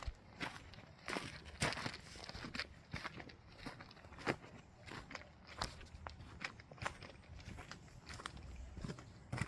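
Footsteps crunch steadily along a rough path down toward a beach at Ledge Point on Malcolm Island, facing Port McNeill across the water; the irregular steps sound close and moderately loud, with no talking over them.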